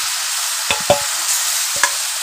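Chicken coated in spice mix and yogurt sizzles steadily in a pan over high heat, a constant bright hiss broken by a few soft clunks of stirring.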